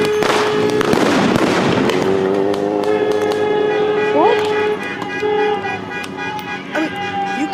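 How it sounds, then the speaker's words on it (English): A long, rapid burst of loud cracking bangs, dense and overlapping at first and then thinning into scattered pops, with a few horn-like tones and background voices mixed in. "you can't even tell how many gunshots that was. It was so goddamn many."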